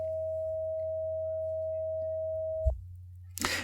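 Synth tone from a Reason A-14 ADSR module, a pure steady sine-like pitch held at its sustain level for a few seconds, then cut off with a soft thump, followed by a short burst of noise.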